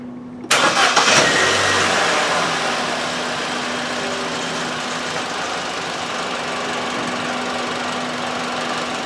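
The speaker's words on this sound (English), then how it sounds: "Now I'm going to start the engine." A 2014 Vauxhall Corsa D with the 1.2 A12XER engine, under investigation for a P0171 fault code, cranks briefly and fires, settling quickly into a steady close idle with no talk.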